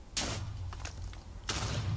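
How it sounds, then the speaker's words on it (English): Blocky video-game explosions from Minecraft, two broad booming bursts about a second apart with a few softer knocks between them, fairly loud and with no talk over them. "Explosion sound. That's a ton of explosion sounds."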